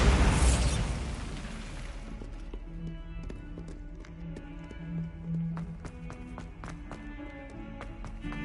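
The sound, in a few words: Bombarda exploding spell in Hogwarts Legacy video game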